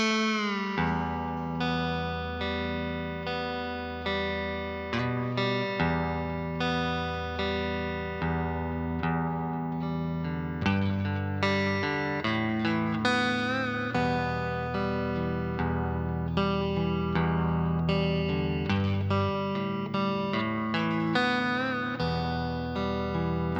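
Electric guitar strings plucked behind the nut through effects, producing bright, bell-like, distorted tones in irregular clusters of notes, close and alone.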